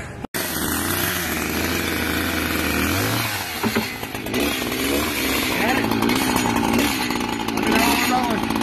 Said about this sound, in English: we're going to get you a little action of a chainsawing out here in Lowe's parking lot